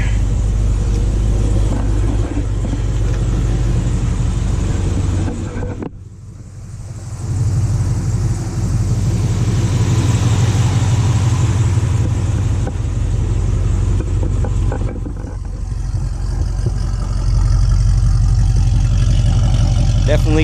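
A 2017 Chevy SS V8 with Kooks headers and an X-pipe rumbles steadily at close range with a deep, loud exhaust tone. The engine dips briefly, then returns to a sustained idle and rev drone.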